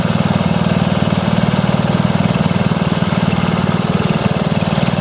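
A Briggs and Stratton 3 HP lawn mower engine runs on E10 petrol, a loud, close, steady idle with a fast even putter that continues unbroken with no talking.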